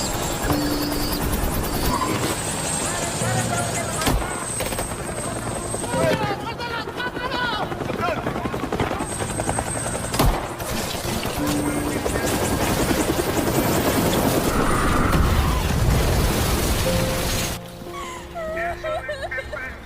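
A helicopter from a Pablo Escobar film scene beats steadily and loudly throughout, mixed with dense scene sounds that include hooves and horse noises, before the sound thins out abruptly near the end.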